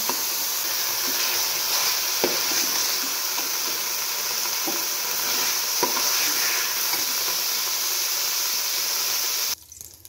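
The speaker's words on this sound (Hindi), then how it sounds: "जब इसका ऑयल सारे का सारा निकल आए तो अच्छी तरह भून जाए" Pumpkin halwa being stirred and roasted in oil in a pan, giving a steady close sizzle with light scraping strokes throughout, ending abruptly near the finish.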